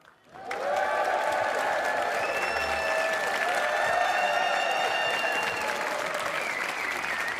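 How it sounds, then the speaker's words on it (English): Loud, sustained applause from a large crowd at the 2025 Champion of Champions darts final in an arena, beginning abruptly and holding steady throughout with some cheering mixed in. "the crowd here in the Mattioli are ready to roar for two world-class performers"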